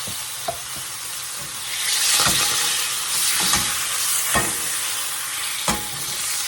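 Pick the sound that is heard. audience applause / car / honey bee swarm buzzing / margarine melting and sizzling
margarine melting and sizzling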